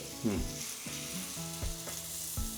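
Sweet potato holige frying on a hot, generously oiled pan, with a steady crackling sizzle broken by several sharp scraping and clinking sounds from a spatula, close and loud with no talk.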